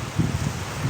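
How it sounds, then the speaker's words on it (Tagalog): Steady low rumbling strong wind buffets the microphone, with soft gusts swelling and fading throughout and no voices. "Lakas-lakas na ng hangin."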